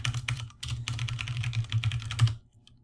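Rapid keystrokes on a computer keyboard while saving and compiling Java code, a close, dense burst of clicky taps with short gaps, ending abruptly after a couple of seconds, with no talking.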